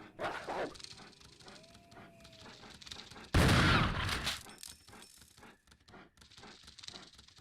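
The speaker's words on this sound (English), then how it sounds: "Oh, that's a dog out there." A dog in a video game barks a few times early on, sharp and fairly close, followed by a loud burst of noise and scattered clinks, with quiet game ambience between.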